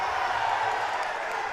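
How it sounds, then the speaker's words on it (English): A boxing crowd murmurs and lets out soft oohs and aahs late in round one of a Friday Night Fights bout, a distant, steady wash of arena noise. "The oohs and ahs from the crowd"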